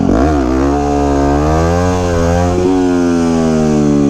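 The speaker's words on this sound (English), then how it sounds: "Me clowning around trying to do little wheelies on my WR250X." A 2009 Yamaha WR250X supermoto revs hard and close, its buzzing single-cylinder note rising and falling through quick throttle blips during wheelie attempts, loud and steady with no talking.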